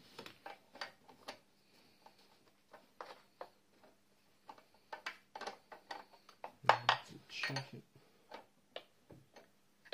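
A ratchet tightens bolts while the starter is replaced on a Renault Twingo, giving quiet runs of rapid clicking in several bursts, with a louder clatter of metal partway through.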